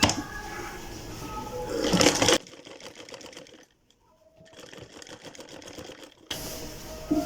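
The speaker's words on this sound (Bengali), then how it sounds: "এখন আমি কুচি দিব, তাই কুচিটা আগে সেলাই করে নিতেছি।" Sewing machine stitching pleats into a salwar, heard in loud running bursts at the start and end with quieter, intermittent mechanical ticking between.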